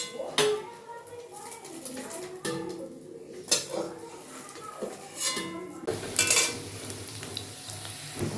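Egg and potato fry in a pan for an omelette, sizzling softly beneath scrapes and clinks of a spatula stirring against metal cookware, with someone talking over the cooking.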